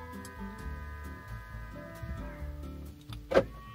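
Car door locks click inside a car, a few short mechanical clunks over a tonal background hum, with one sharper, louder lock actuation near the end.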